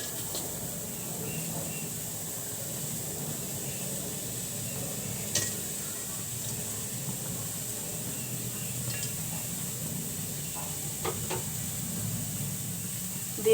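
Onions frying in a pot on a stove for a hilsa fish and tomato curry, a steady soft sizzle and hiss throughout with a few faint clinks of stirring.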